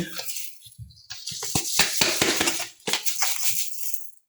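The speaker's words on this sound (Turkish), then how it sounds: "Toz şekerimi domateslerim üzerine toktum." Granulated sugar poured over chopped green tomatoes, a gritty hissing pour broken by a cluster of crisp clinks and taps against a bowl, close and fairly loud, stopping and starting in short bursts.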